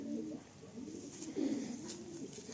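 Pigeons in a loft coo in low, rolling phrases that swell and fade over a steady background hum, the calls close and moderately loud with no one talking.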